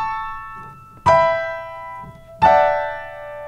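Piano playing blocked arpeggio chords from Haydn's Sonata No. 40, two loud struck chords about a second and a half apart, each ringing and slowly decaying in a quiet room.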